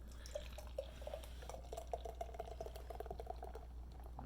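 A salted caramel slice stout is poured hard into a glass, giving a soft, close, bubbling and splashing trickle that builds and fizzes steadily throughout.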